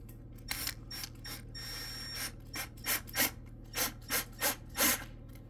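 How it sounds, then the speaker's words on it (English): A screw is driven into the molding on a PVC membrane RV roof, heard as a series of short, close rasping bursts that grow more regular toward the end, with no voices. "Just put the screw in right here."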